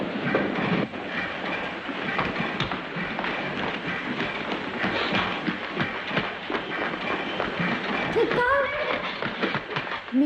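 Passenger train running on rails, a steady rolling rumble with faint clickety-clack and a brief wheel squeal near the end, heard from inside the carriage while people talk over it.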